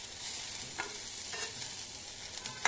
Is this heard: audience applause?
no